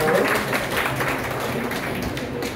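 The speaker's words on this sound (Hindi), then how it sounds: "ताली बजाएर" A crowd claps at a declaration assembly of the Rautahat contact forum in Nepal, a steady, moderately loud patter of hands that carries evenly through the moment and then eases slightly.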